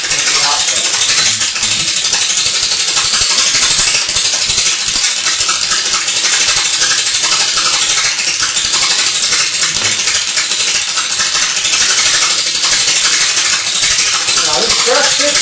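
High-tension pancake Tesla coil spark discharge, a harsh, loud, continuous crackling hiss that sputters and rattles steadily throughout, close and dominant.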